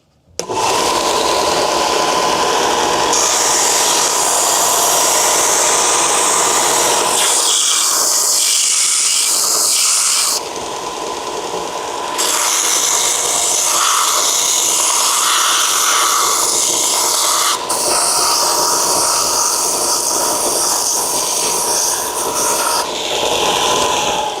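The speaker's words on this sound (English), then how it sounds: "it's back to the belt sander to round these edges" A belt sander rounds the edges of a stitched stingray leather holster, running loud and continuous at close range with a shifting, hissing grind as the piece is pressed and turned against the belt.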